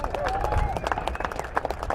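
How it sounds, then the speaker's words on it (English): Brief scattered clapping from a crowd at an outdoor shooting-sports event day, uneven and moderately loud, with some voices underneath. "Give a round of applause"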